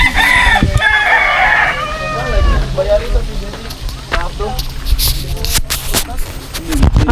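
A rooster crows loudly near the start, with clucking fowl and people talking in the background throughout, on Mt. Naupa.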